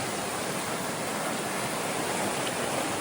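Fast-flowing Dismal Creek on the Appalachian Trail rushes steadily, a broad, even wash of water noise close by with no talk over it.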